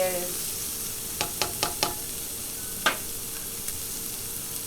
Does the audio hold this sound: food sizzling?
yes